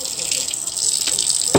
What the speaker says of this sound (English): we're going to add water in. Just tap water.